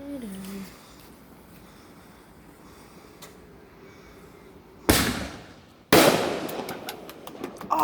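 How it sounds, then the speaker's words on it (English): Blastroids fireworks at a Fourth of July celebration, two loud close sharp bangs about a second apart, the second followed by crackling, after quiet outdoor ambience with people talking. "I love fireworks, man."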